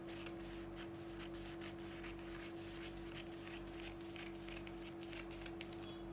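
Scissors snip through paper while a basic pencil skirt pattern is cut out, giving a quick run of short, crisp cuts in an even rhythm over a low steady hum, close and quiet, with nobody speaking.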